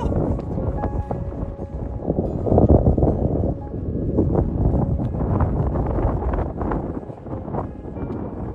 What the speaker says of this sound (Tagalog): Parang tatangayin ako ng hangin.